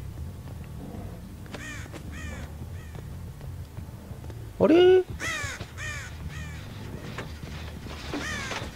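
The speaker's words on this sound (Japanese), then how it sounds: "カラス" Crows caw in the horror video game Dead by Daylight, several harsh repeated caws rising over a low ambient drone, with one louder close call and a player talking quietly over the game sounds.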